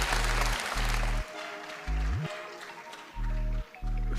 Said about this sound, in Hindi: उनके लिए भी भरपूर तालियां अगर आप करेंगे तो बहुत मेहरबानी।